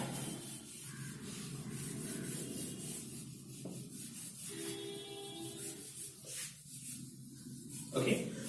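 Steady rubbing and wiping as writing is erased from a board, a faint continuous scrubbing close by with a short louder scrape near the end.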